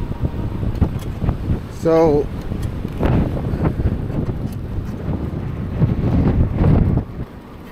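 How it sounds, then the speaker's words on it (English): Strong wind buffets the microphone while riding a Lectric XP e-bike through Santiago Canyon, a constant low, roaring rumble that fills the whole stretch, with a brief spoken word near the start. "You can probably hear it, but it's very, very windy today."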